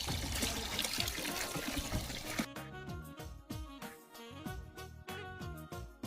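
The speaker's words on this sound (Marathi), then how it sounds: "त्यानंतर आपण त्यात ऍड करणार आहोत पाणी." Water pours and trickles continuously into cow urine while making neem-based pest spray, then gives way to music with a steady beat for the rest.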